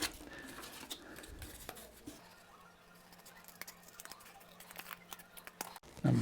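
Pieces of material cut by hand without a craft knife, with soft snipping, rustling and crinkling handling noises close by. A faint low hum runs underneath, and a louder knock comes at the end.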